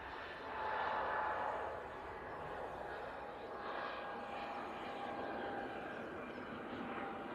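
An EasyJet airliner at Manchester Airport produces a distant, steady jet engine rumble and whine that swells briefly early on, then holds as a broad, moderate drone.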